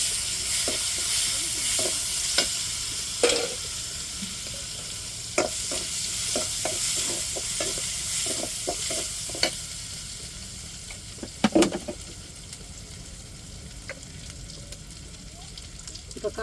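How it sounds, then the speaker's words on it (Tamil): Garlic frying in a rasam tempering along with onion and curry leaves, a steady sizzle running throughout with intermittent scrapes and clinks of a stirring spoon against the pan. "ரசத்துக்கு பூண்டு சேர்த்துக்கிடுவோம் தாளிப்பில்."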